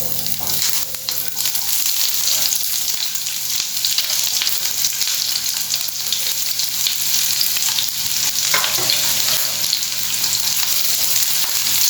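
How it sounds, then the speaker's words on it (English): Sliced onion fries in two tablespoons of hot oil in a pan for a Goan prawn curry. A loud, dense crackling sizzle holds steady from start to finish, close up, with an occasional stir and no talking. "Here I have pan with 2 tablespoons of oil which is nice and hot. Now we will add a sliced onion."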